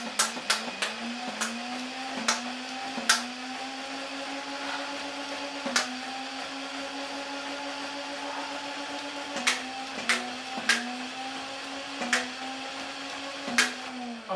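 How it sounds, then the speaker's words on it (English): A Nerf Titan CS-50 motorized minigun blaster whirs with its spinning barrel motor, punctuated by repeated sharp cracks and thumps as darts fire, some in quick bursts and others spaced apart, with no talking. "that'll start firing the darts, like so."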